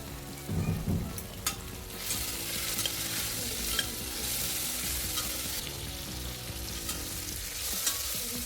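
Potatoes frying in a pan for a Navratri fasting dish of vari rice and potato-peanut curry, stirred with a spoon: steady loud sizzle and scraping stir sounds throughout, with no talking.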